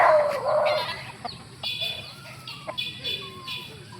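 A backyard chicken clucks in a few short bursts close by, with some bird calls and faint outdoor background around it.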